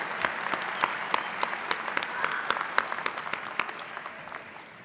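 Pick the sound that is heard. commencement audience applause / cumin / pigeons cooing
commencement audience applause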